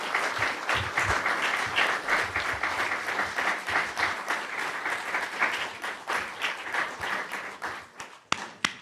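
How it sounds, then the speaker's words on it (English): Audience at a district mayoral and delegate candidate forum applauds the candidates, sustained steady clapping from many people that thins out toward the end with a few last claps. "Let's give them a round of applause"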